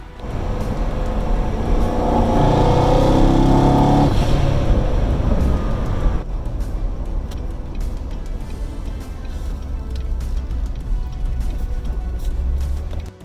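Corvette with carbon fiber trim driving, its engine and road noise loud and steady at first, then dropping to a quieter, even cruising hum with no talk.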